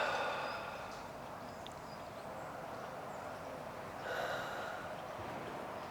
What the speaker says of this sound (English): A few more breaths.